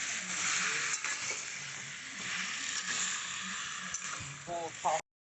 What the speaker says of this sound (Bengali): এবার হচ্ছে তেলের সঙ্গে ভালো করে ভেজে নিচ্ছি